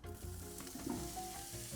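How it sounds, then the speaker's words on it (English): Onion sizzles lightly in hot oil in a pot for chili, a steady, close, crackling hiss with faint stirring scrapes and no voices. "see how it's lightly sizzling around the edges?"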